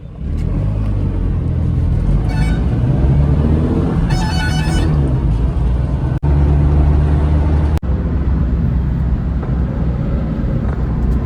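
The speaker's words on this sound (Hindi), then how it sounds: "अभी हम सब ना भाई इसका 0 to 100 टेस्ट करने वाले हैं विदाउट एसी" A Tata Nano car accelerating hard from 0 to 100 km/h with the air conditioning off, its small engine droning and rumbling steadily close up with rising revs and brief gear-change dips, no talking.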